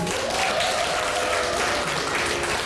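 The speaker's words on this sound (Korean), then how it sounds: "우리 여기에 모인 모든 분들께 서로서로 축복의 박수 한번 주니다" Indoor audience at the opening ceremony of a Catholic exhibition honoring the 200th anniversary of Father Kim Dae-geon's birth, giving loud, dense, sustained applause throughout with no break.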